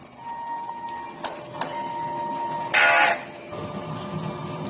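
A DTF printer runs a head cleaning cycle: steady mechanical whine with a few sharp clicks, then a loud burst of pump-like buzzing for a moment before the hum resumes.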